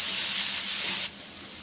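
Fried potatoes going into sizzling khichdi masala with tomato, a loud hissing sizzle that drops off sharply about two-thirds of the way through, leaving a quieter simmer.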